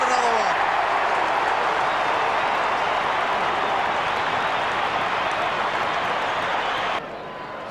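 A stadium crowd at an Australian football match between Essendon and Geelong in 1996 cheers after a goal, a broad sustained roar that stays loud before dropping off sharply near the end.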